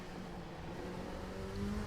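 A race car passes in the iRacing sim at Daytona's 24-hour race, a steady droning engine whine and road rumble with a slowly rising pitch, continuous and moderately loud with no voices.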